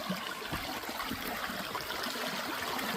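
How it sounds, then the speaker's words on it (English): A creek in the Warrandyte gold country runs over a large rock, making a steady, faint babbling trickle with soft splashes, continuous and alone. "the creek's another foot higher and it's going over that rock"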